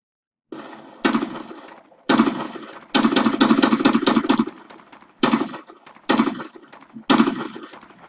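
AR-15 rifle gunfire in recorded footage comes as loud, sharp reports in rapid bursts and single shots, each followed by a rolling echo, with brief gaps between volleys.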